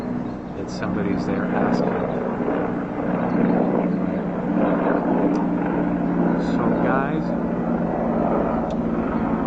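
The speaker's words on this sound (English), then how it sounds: "sorry about the plane noise, the fucking drones." Aircraft engine noise, which the person present calls drones, drones steadily overhead as a continuous rumbling hum throughout, while someone talks over it.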